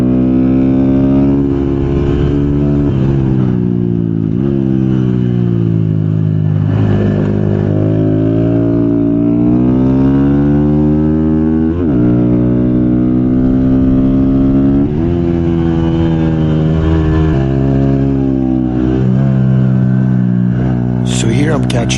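Honda Grom motorcycles race on a track during a six-hour endurance race, a loud, close engine droning and revving continuously through shifts, rising and dropping in pitch for the whole stretch.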